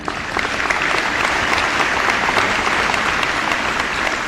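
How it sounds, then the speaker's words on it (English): Sustained audience applause fills the room at a school grand opening celebration, dense and steady clapping from many hands throughout, loud and close with no talk over it. "we should acknowledge them with a little applause as well."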